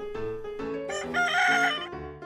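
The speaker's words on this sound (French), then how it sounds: "pour la première fois en France, on entend et voit un coq enregistré en son direct" A rooster crows once, a full loud cock-a-doodle-doo heard close, captured in an early direct-sound film recording.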